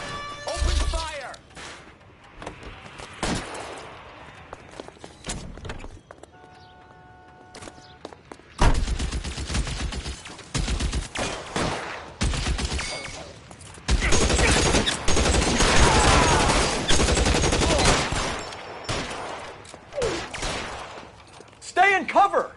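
Video game gunfire during a shootout, with bursts and fusillades of shots and crashes coming in clusters, loud and close, with game voices calling out between volleys.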